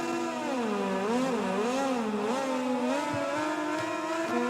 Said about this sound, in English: So here's Stone revving up.